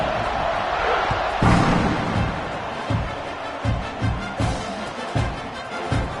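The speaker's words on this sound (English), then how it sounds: "this crowd now ready to get behind them" A big stadium crowd roars at a college football kickoff between Florida and Oklahoma, a dense wall of cheering with sharp rhythmic claps and thumps punching through, loud and close throughout.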